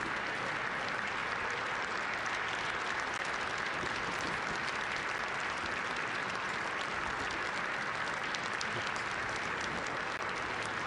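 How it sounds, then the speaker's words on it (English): A huge crowd at Barack Obama's 2009 presidential inauguration keeps up dense, steady applause that never flags. Thousands of hands clap together in one unbroken roar with no voices over it. "I'm not sure how long the applause has gone on, but it's pretty impressive. And it's sustained."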